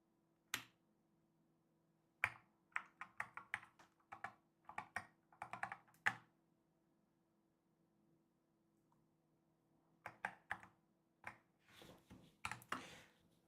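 Clattering computer keyboard keystrokes while function keys are set up on a layered layout, quick irregular bursts of clicks in two clusters separated by a pause, close and clear in a quiet room.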